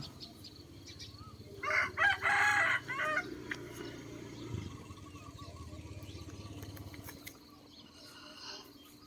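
A rooster crows once loudly and close by in a quiet rural morning yard, followed by softer low clucking and background farm ambience.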